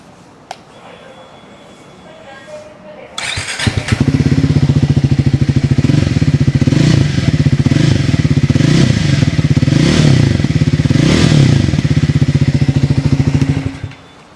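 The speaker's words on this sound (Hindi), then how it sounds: "इसलिए मैंने सोच रहा हूँ कि यार आपको पीछे के एंड से आपको एग्जॉस्ट नोट का साउंड सुना देता हूँ" A Triumph Speed 400 motorcycle heard from the rear fires up after a quiet start, then settles into a loud, steady exhaust note with a throbbing beat and a few rises in revs before cutting off.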